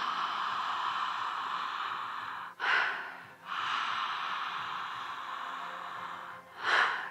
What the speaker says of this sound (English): It's not fast breathing, it's deep, full, connected, conscious breathing.